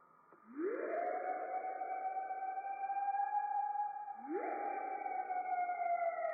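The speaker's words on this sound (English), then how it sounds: "Sounds like a siren." A siren wails loud and close, sweeping up into a long steady tone, dropping briefly, then rising again and holding, with bright harmonics and no voices.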